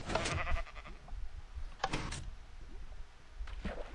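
Sheep in the Minecraft video game bleat in short nasal bursts, three separate calls spaced a couple of seconds apart, fairly quiet with no talking over them.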